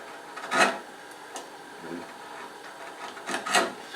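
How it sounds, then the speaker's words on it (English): A hand chisel shaves stopped chamfers along oak for a carved chest, making short rasping cuts in two bursts with quieter scraping between them, close and moderate in level. "these are stopped chamfers, which are taken out with a chisel like that"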